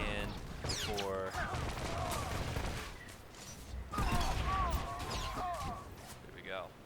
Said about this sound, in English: The thing is, they're all ranged, so they'll stand right where they're at and just shoot at you